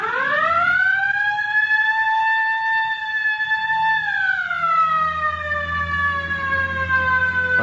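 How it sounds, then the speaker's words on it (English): A police car siren wails continuously, sweeping up and down in long rising and falling tones, loud and close while officers pull a bus over. No voices are heard over it. "All right, hit the siren."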